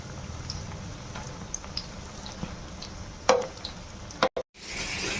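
Capsicum bajji frying in hot oil, a quiet steady sizzle with a few sharp clatters as the fritters are turned, then a brief cut before the frying resumes.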